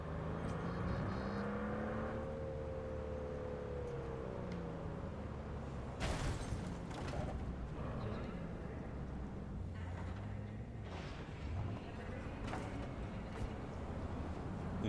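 Stolen police car driven through city streets in a sci-fi video game, with a steady engine hum and whir, occasional louder passing bursts and thumps, fairly quiet throughout.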